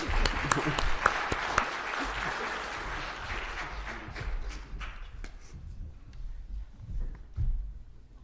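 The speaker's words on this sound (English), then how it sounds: "let's give a welcome applause" Welcome applause from an audience for an invited Mayo Clinic doctor at an MRI safety talk, steady clapping that thins out after a few seconds with scattered claps and shuffling, a voice murmuring underneath.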